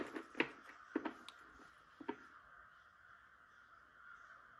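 Crows caw in several loud, sharp bursts over the first two seconds, then the calls stop and only a faint, distant chorus lingers.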